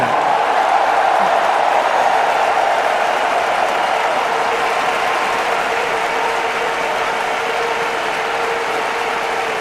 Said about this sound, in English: a huge round of applause for a champion, Muthaiya Muralidharan.